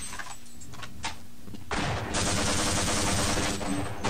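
Gunfire in Half-Life Blue Shift, a few scattered shots at first, then a sudden dense burst of rapid automatic fire that carries on loud and close to the end.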